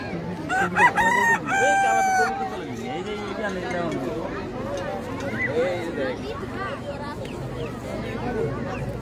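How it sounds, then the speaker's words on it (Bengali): Colombian Light Brahma chickens at a poultry market stall crow loudly and close in the first couple of seconds, followed by clucking under a steady crowd of people talking. "Colombian light Brahma."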